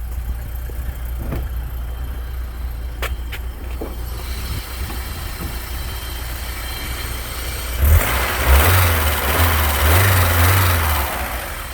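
A cold 1993 BMW 316i Touring engine idles shakily after starting with a steady low rumble, then revs up louder near the end and holds a rougher, heavier drone.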